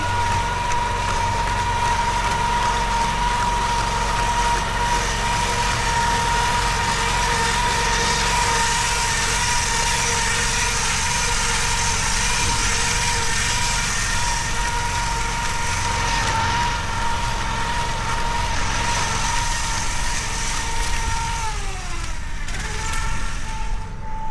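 A rice planting machine's engine runs steadily in a field, a loud, continuous mid-pitched drone with a constant tonal whine that holds for the whole stretch, with no voices.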